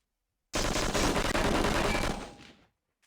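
Sustained burst of weapon fire while killing an Elite in the 2000 E3 build of the Halo video game, a loud rapid stream of shots starting abruptly after silence and fading out over the last half second.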